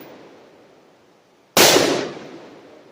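A single sharp, loud gunshot cracks out at a shooting range aimed at targets, cutting through quiet background hiss and trailing off in a brief decaying tail.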